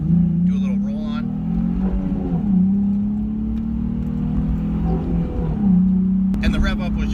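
A Nissan 350Z with the 3.5-litre DE engine rolls on the throttle, its steady low drone rising and falling slightly in pitch, heard close and continuous without speech.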